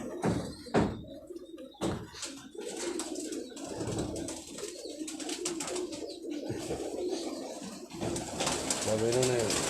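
Pigeons on a rooftop in Punjab, with a few sharp knocks and flaps early on, then steady soft cooing and wing rustles under outdoor background noise, ending in clear nearby coos.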